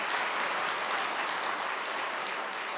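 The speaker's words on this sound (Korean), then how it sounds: "우리 강릉교회 합창단에 여러분 다시 한번 큰 박수" A church congregation in Gangneung applauds its choir after a hymn at a winter camp evening service, producing a continuous, fairly soft wash of clapping that fades slightly toward the end, with no voices on top.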